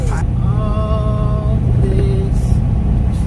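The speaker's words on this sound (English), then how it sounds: "All this traffic." Road traffic in Chicago rumbles steadily throughout, a continuous low roar of passing vehicles with a few brief higher tones layered over it.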